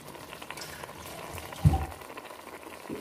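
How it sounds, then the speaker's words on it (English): Water poured into a pot of boiling pepper soup with meat, a soft bubbling simmer broken by one brief, louder splash partway through. "So, let me add water."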